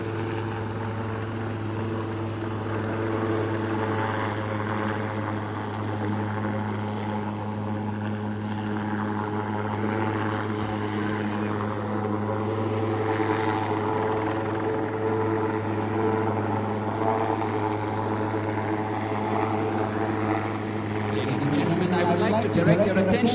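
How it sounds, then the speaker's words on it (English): An Advanced Light Helicopter Mark III's rotor and engine drone steadily and loudly throughout a naval display, with a rising whine toward the end. "can we have a huge round of applause for the indigenous Advanced Light Helicopter Mark"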